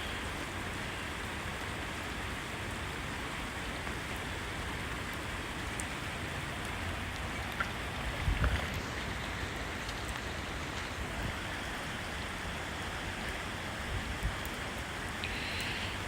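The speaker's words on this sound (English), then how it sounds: "These are some pretty big raindrops." Steady rain from a Boston thundershower patters down continuously, a dense hiss of big drops hitting a surface, with a few louder individual splats standing out.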